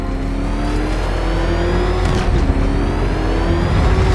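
The Batmobile from the video game Batman Arkham Knight drones loudly and steadily, its engine revving with a sustained, even tone and no break for the whole stretch.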